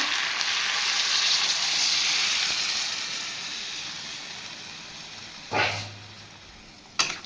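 Water poured into hot oil in a jackfruit curry pan makes a loud, steady hiss that slowly fades, with two short bursts of crackle near the end.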